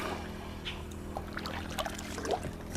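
River water on the South Branch of the AuSable River in Michigan trickles and gurgles softly around a moving boat, a faint, steady flow with small splashes and drips.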